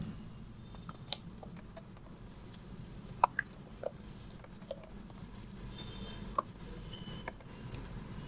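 Soft, irregular clicks of typing on a computer keyboard, scattered keystrokes over a steady low background hum, fairly quiet and close.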